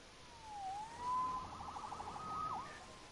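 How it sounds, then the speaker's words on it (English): A police siren in the PS4 game Spider-Man wails at a distance, rising and falling, then shifts into a faster warbling yelp before trailing off. "Saved by the siren."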